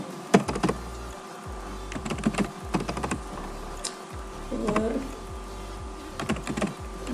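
Typing on a computer keyboard while writing Python calculator code, with bursts of sharp clicky keystrokes separated by short pauses and a faint voice in the background.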